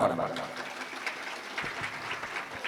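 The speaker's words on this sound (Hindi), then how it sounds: "एक बार जोरदार ताली बजाओ" Crowd at a Chhattisgarhi Ramayana bhajan gathering claps together, a thick sustained roll of hands heard close, with a voice briefly over the start.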